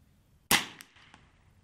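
A single sharp, small pop from a Swedish Rolling Block rifle converted to .22LR, heard close and alone, followed by a couple of faint metallic clicks from the action.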